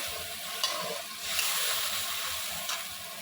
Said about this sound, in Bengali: মশলাটা দেওয়ার পর একটু গ্যাস কমিয়ে মশলাটা কষাতে দিতে হবে।